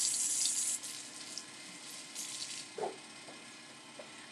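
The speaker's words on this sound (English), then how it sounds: "Wash my hands." A kitchen tap runs at a sink for hand washing, a soft steady water flow with a brief splashy burst at the start and a few faint clinks, fairly quiet and distant.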